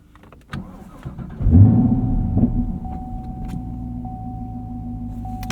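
A Chevrolet Camaro SS 1LE V8 starts up: a starter whir, then a loud, close bark as the engine catches, settling into a deep, steady rumbling idle.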